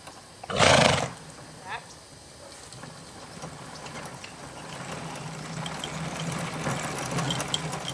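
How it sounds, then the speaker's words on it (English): A horse trotting during a cattle-working session with a cable cow, its hoofbeats faint and steady under continuous background noise, with a loud burst near the start; people talk nearby. "Yes, nice trot."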